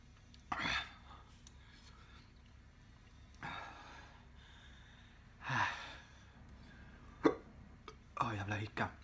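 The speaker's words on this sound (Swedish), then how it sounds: "Åh, jävla hicka." Hiccups from someone who has just eaten a very hot chili chocolate: several short, sharp vocal jerks spaced irregularly over several seconds, close and fairly quiet, with breathy noises between them.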